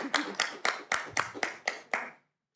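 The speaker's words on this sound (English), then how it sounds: "I think we should clap." A small group claps at a school board meeting, about eight distinct, evenly spaced claps that sound close and fairly loud, then stop abruptly into silence.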